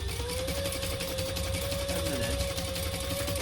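A sewing machine, called a fabricator, stitches with a steady, even mechanical hum and whir throughout, a voice speaking briefly over it.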